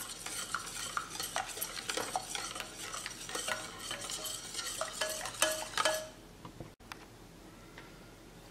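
Vanilla essence being stirred into cake batter in a bowl, a steady run of close scraping and tapping utensil strokes for about six seconds, then near quiet with faint occasional clicks.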